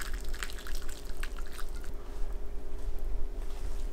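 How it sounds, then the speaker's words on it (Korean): Hot seasoning liquid is strained through a sieve and poured over tofu, a steady watery pour and trickle with scattered drips, close and continuous throughout. "뜨거운 상태로 체에 걸러 두부에 바로 부어줍니다"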